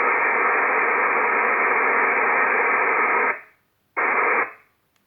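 A radio receiver at maximum RF gain hisses with a loud, steady internal noise that cuts off, returns briefly, and stops again.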